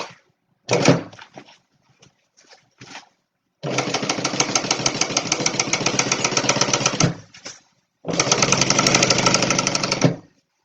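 A sewing machine top stitching the bottom of a Stella Weekender bag runs in close, loud bursts: a few short stitches at first, then a long steady rapid whirr, a pause, and another sustained run.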